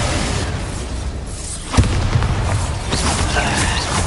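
A Bombarda explosion spell goes off in the video game Hogwarts Legacy: one sharp, loud burst near the middle of the clip, set against steady game noise and mechanical rumble.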